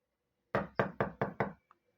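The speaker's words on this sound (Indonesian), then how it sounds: "Ia mendengar perlahan-lahan pintu biliknya diketuk pelan." Five soft, evenly spaced knocks land on a wooden bedroom door in a quiet room, followed by a faint small tap.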